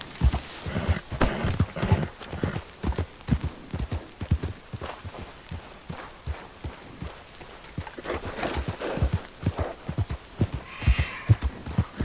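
A horse gallops in Red Dead Redemption 2, a steady close run of rhythmic hoofbeats thudding at an even pace across the ground, alone with no voices.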